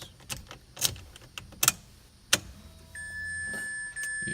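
Clicks and ticks sound as a car ignition is switched on, followed by a steady electronic chime tone and a low hum as the dashboard cluster powers up; no speech.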